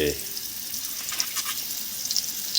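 Lobster pieces coated in masala and a little flour fry in a pan, giving a steady close sizzle with faint crackles and no voices.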